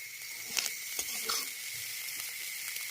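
Faint, steady sizzling of fish frying in a pan, with occasional soft clinks and stirring scrapes.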